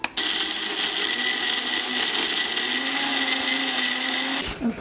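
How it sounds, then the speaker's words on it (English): A Ninja blender whirs steadily as it blends a drink with ice and cinnamon, a loud continuous motor roar that runs for almost five seconds and then cuts off abruptly at the end. "I'm just using the Ninja blender, and I'm gonna blend everything"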